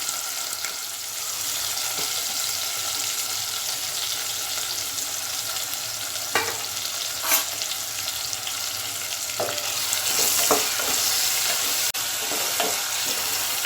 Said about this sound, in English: saute this onion for 3-4 minutes